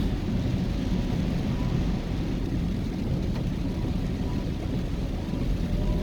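Steady rain roars over a low rumbling drone, like heavy rain heard from inside a moving car driving from Hagley Park Road to Half Way Tree in Kingston, Jamaica, constant and fairly loud.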